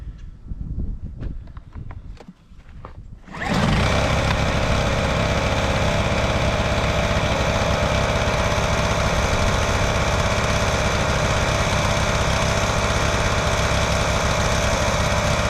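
Honda EU1000i portable generator engine starting up after a few seconds of handling noises, then running at a loud, steady, even drone close by.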